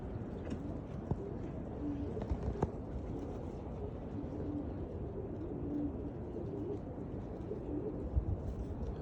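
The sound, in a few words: pigeons cooing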